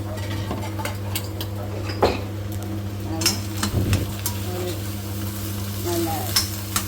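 Batter for bajji made from stone-ground flour being stirred with salt and turmeric in a bowl, a steady close scraping and sloshing with a few sharper clinks of spoon against the vessel, no talking.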